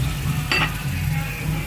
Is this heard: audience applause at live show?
no